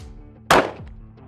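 A single sharp, loud 9mm pistol shot fired at a target on a shooting range rings out close by, with a short decaying echo after it.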